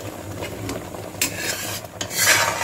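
A spoon scraping and stirring thickening milk in a pan for milk cake, with steady rasping strokes and soft sizzling, close and fairly loud with no talk.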